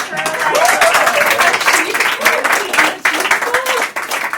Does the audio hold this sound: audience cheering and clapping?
yes